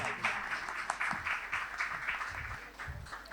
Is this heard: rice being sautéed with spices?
no